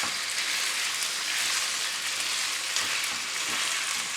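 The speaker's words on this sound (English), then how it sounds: "we're just going to brown the mince off in a frying pan in a little oil over a medium heat" Mince browns in a little oil in a frying pan over medium heat, a dense crackling hiss that continues without pause, close and clear.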